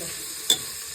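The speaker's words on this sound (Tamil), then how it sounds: "வெங்காயத்தை வந்து நம்ம நல்லா இளம் நிறம் வர வரை நம்ம நல்லா வதக்கிக்கணும்." Onions sautéing in a pan for biryani, a soft steady sizzle with a single brief stir or clink of the spoon, quiet and close, no voices.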